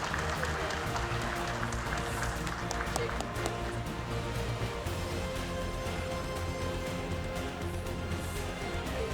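Audience applause at a real estate development forum panel, steady clapping mixed with a loud tonal music bed and some crowd murmur throughout.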